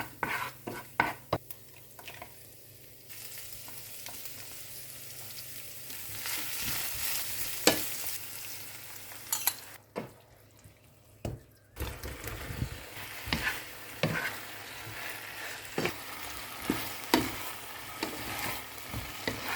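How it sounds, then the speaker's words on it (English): Cauliflower and other vegetables sizzle in a pan while a utensil stirs and scrapes them, with irregular clatters over a steady frying hiss, close by. "Now we can start sautéing by putting our veggies step by step."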